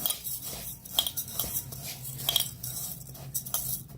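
Soaked urad dal being mixed in a bowl, with light, close clinks and scrapes against the bowl's side and an irregular rhythm, heard alone with no talking.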